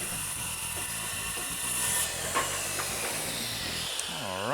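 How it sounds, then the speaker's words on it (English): A hand saw cuts through a wooden door along a scored line, with rapid, evenly repeating rasping strokes, close and fairly quiet, the cut finishing near the end. "when you run your saw through it"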